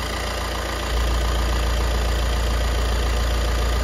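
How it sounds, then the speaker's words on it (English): A MAN / VW Crafter van diesel engine idling steadily during EGR valve testing, a continuous close, even hum with an unchanging tone throughout. "I can even hear there's no tone change in the engine"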